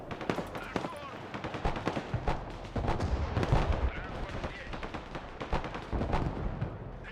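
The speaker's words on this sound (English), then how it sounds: "Those guys are getting hit by snipers" Rapid bursts of gunfire from a Broken Arrow battle crack in quick irregular volleys at mid distance, with heavier booms mixed in, continuing steadily throughout.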